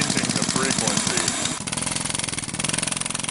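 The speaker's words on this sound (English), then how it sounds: "they replace the chisel from the jackhammer with a small rod" A modified jackhammer, its chisel replaced by a small rod, runs as a mechanical oscillator, hammering in a loud rapid rhythmic pulse that shifts to a slightly different beat midway through.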